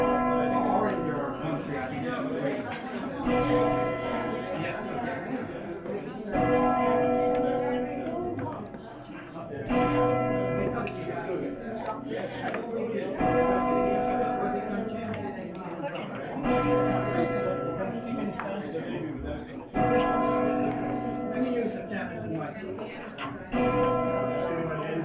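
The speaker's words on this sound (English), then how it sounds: "The heaviest bell in Christchurch Cathedral in preparation for Liverpool Cathedral." The heaviest bell of Christchurch Cathedral, about 4,500 weight, rings in slow repeated strokes, each struck tone swelling and decaying into a long humming resonance before the next, with dense overlapping overtones throughout.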